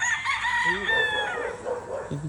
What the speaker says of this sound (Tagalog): May mga inahanda sila dito mga manok.